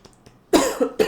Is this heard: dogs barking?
no